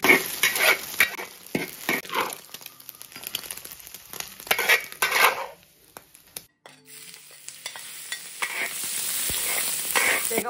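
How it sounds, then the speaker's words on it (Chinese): Preserved waipo cai vegetables stir-fried in a wok, with loud scraping and tossing strokes in an uneven rhythm over a steady sizzle, close at hand, then a brief lull before a broader hiss of frying. "先炒一个外婆菜。"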